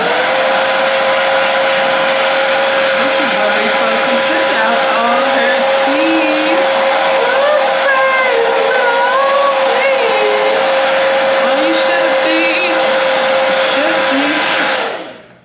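A hair dryer blows close and loud for about fifteen seconds, drying lace tint on a wig, with a steady whooshing roar and slight pitch wavers before it cuts off at the end.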